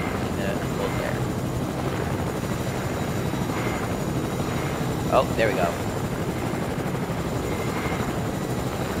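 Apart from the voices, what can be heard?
helicopter flying, from a video game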